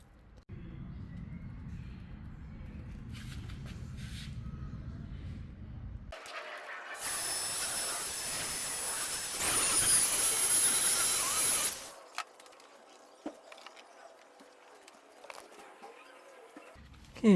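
A handheld polisher works over plastic trim after yellowed paint protection film has been removed, a loud broadband whir running for about six seconds in the middle. Quieter handling noise and low rumble come before and after it.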